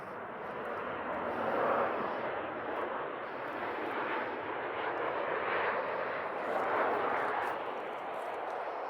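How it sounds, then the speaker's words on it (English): Airplanes passing overhead near old rail yards outside Chicago, a faint distant broadband roar that swells and recedes in slow waves over several seconds. "Hear the planes?"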